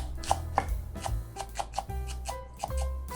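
A knife chops washed green onion (daepa) finely on a cutting board, producing a run of crisp, close, separate taps at an uneven rhythm with short pauses between them.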